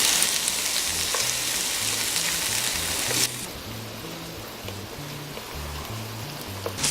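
Meat browning in a pan for paella, a loud, steady close sizzle that drops slightly partway through, with a low rhythmic thumping underneath and no talking.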